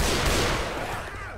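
Dense, loud burst of gunfire in the zombie shooter Left 4 Dead 2, a continuous broadband roar of overlapping shots that fades slightly toward the end, with no voices over it.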